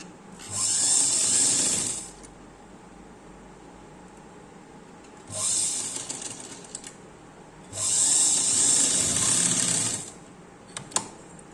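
A sewing machine stitches fabric for a pair of trousers in three steady whirring runs, each lasting a couple of seconds, separated by quiet pauses and ending with a few small clicks.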